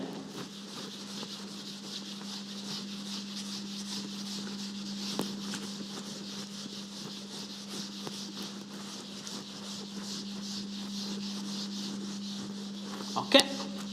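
An eraser rubs writing off a board during a classroom lesson, a steady, soft scraping texture that runs continuously over a constant low hum, ending in a few brief knocks.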